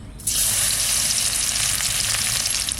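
Crushed garlic, pounded on a grinding stone, dropped into hot mustard oil and bursting into a loud, steady sizzle right after a brief quiet moment, close and continuous with no talking.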